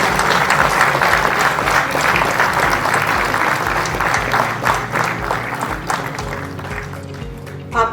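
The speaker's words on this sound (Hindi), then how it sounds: "तालियों के साथ हम इस क्षण को ऐतिहासिक बनाएंगे।" Sustained, loud audience applause at a book launch for a volume of temple tales from Uttarakhand, dense clapping filling the whole stretch and thinning slightly toward the end.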